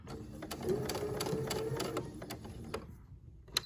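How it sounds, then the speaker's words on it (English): A sewing machine stitches binding fabric straight off a corner, a steady fast mechanical whirring with rhythmic needle clicks close up, stopping abruptly near the end before a single click. "I'll pivot my fabric and then I will stitch straight off the corner"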